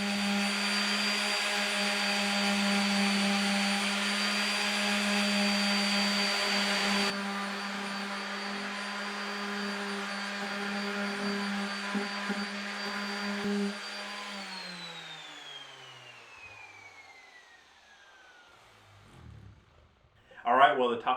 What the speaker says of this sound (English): take it over to the bandsaw and just knock it off real fast